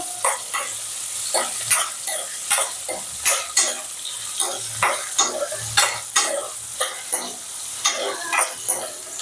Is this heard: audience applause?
no